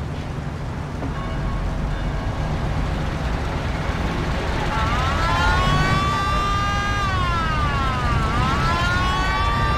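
Police car siren in the video game Mafia, a wailing tone rising and falling over steady engine and road noise in the second half.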